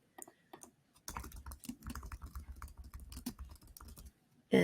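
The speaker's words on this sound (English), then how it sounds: "this is where I'm going to type in my username and my API key." Rapid keystrokes clatter on a computer keyboard in a quiet room, an irregular burst of close, crisp taps with a louder key press at the end.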